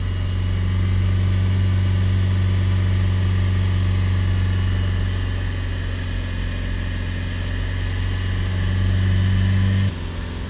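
A Vauxhall Vivaro van engine idles steadily with a loud, constant low hum that holds for about ten seconds, then shifts abruptly near the end.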